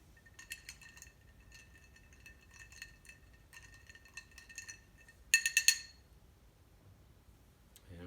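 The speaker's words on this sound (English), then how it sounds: "Gently stir it." A spoon gently stirs a Godfather cocktail of amaretto in a glass, producing light repeated clinks against the glass, quiet and close, with a brief brighter cluster of taps near the end.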